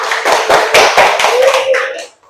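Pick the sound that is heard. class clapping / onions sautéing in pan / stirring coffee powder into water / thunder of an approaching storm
class clapping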